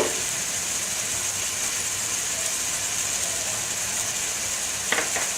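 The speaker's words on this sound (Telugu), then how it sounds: "చికెన్ కొద్దిగా వేగిన తరువాత" Chicken pieces fry in a pan for gongura chicken curry, giving a steady, even sizzling hiss throughout with a brief clink near the end.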